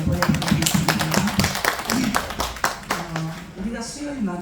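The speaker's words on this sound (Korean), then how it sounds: "우리 하나님께 영광의 박수를 올려드리겠습니다." A church congregation claps together during a Wednesday service: a run of rhythmic claps with a voice speaking over them, then the clapping fades out.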